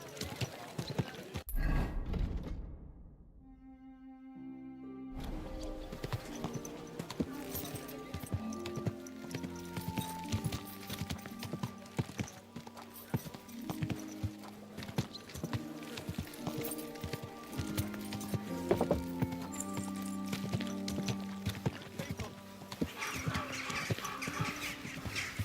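A horse's hooves clip-clop in the video game Kingdom Come: Deliverance II, a steady stream of close hoofbeats over a game music bed, with a faint snort or whinny now and then.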